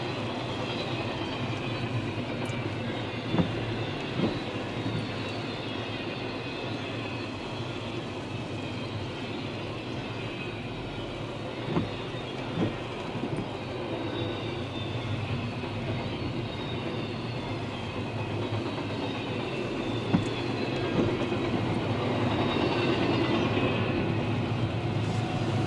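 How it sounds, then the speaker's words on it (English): A CSX freight train rolls through a Buffalo blizzard with deep snow: a long, steady low rumble and roar lasting the whole stretch, marked by scattered clanks and thumps and swelling slightly toward the end, with no talk. "It's the first train of the day I've seen."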